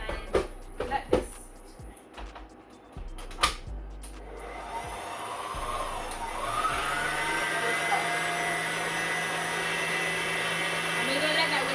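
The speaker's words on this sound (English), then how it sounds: "we're going to let that whisk until it has 15 minutes" A stand mixer whisks an eggnog mixture, starting with clatter and handling noises before settling into a steady motor whir that runs continuously and fairly loud to the end.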